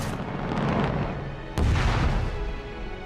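A ship's weapon fires in The Expanse TV show, a deep booming blast hitting abruptly over a rumbling background and then slowly fading.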